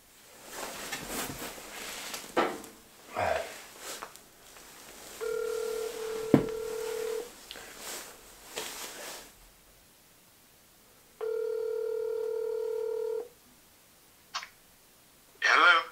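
A telephone call is placed: a string of short dialing tones and clicks, then two long ringback tones a few seconds apart, heard fairly close amid quiet pauses, with a person talking softly early on.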